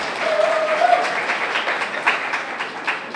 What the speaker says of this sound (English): I'll give you a chance to, clap for Tommy.